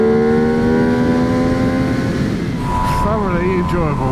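A high, sustained engine drone that climbs and then wavers near the end, heard under people talking.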